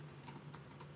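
Computer keyboard typing in a quiet room during Final Cut Pro X work, a few soft, light key clicks spread unevenly over a steady low hum.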